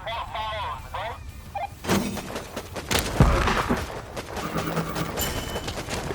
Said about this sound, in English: those airstrikes are deadly